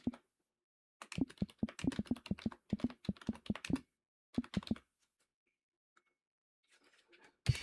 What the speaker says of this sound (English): my mic is quite close to my computer and my keyboard, so I apologize if you hear the clickety clacking